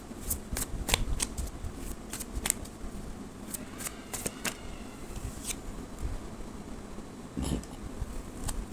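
Tarot cards being shuffled close up, with repeated crisp riffling bursts and soft slides and taps between them, without talk.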